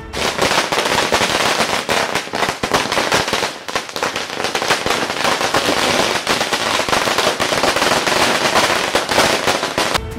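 A long string of firecrackers bursts outside the AIADMK party office entrance, a loud, dense, unbroken crackle of rapid pops lasting about ten seconds.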